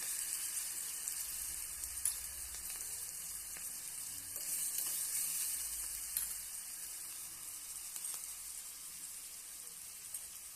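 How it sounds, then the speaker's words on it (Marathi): Green chili paste with cumin sizzles steadily in a hot pan for a recipe of Indore-style ragda pattice, with a few scrapes and clinks of stirring, close and constant with no talk. "यामध्ये आपण जे मिश्रण बारीक केलेलं आहे हिरवी मिरची वगैरे ते आपण यामध्ये ॲड करून घेऊया आणि छान असं हलवून घ्यायचं आहे"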